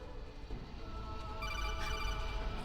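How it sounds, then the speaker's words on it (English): Codec call ringing in the stealth game Metal Gear Solid, an electronic telephone-style ring that rises over a steady backdrop of game music and grows more prominent toward the end. "Can other people hear the ringing?"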